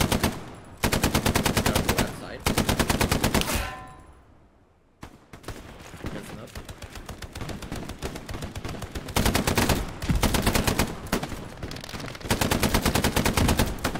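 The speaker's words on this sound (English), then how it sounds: "Got the MG." Machine gun fire in a realistic shooter game comes in loud, rapid automatic bursts. A short lull around the middle drops to near quiet before sustained rattling volleys resume and carry on to the end, with no talk.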